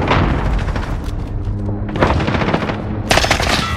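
A cruise missile strike in the Call of Duty: Modern Warfare ground war mode: loud, continuous rumbling explosions and heavy gunfire, with sharp bursts flaring up near the end, dense and close with no speech.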